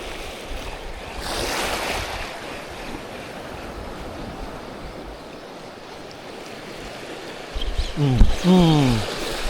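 Ocean waves surging in fairly deep water at a beach, a steady broad wash of surf with wind noise, swelling louder near the end while people talk nearby.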